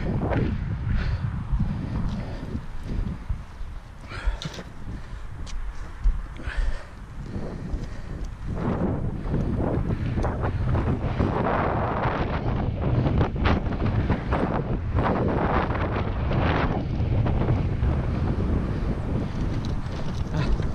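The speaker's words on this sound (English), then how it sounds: "I think the wind might have been what blew my bike over." Strong gusts of outdoor wind buffet the microphone with a continuous low rumble and roar that swells and eases throughout, with no speech.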